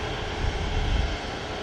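An Icelandair airliner at Manchester Airport produces a steady engine roar. The sound is a broad, distant rumble that swells slightly and then settles.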